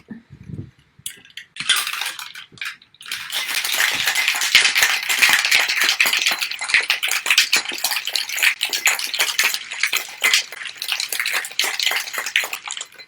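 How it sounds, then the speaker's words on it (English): A cocktail shaker full of ice being shaken hard for a Caribbean drink, starting with a brief clatter and then a long, steady rapid rattle of ice that stays loud and close. "So shake until you get that nice condensation on the outside of your shaker"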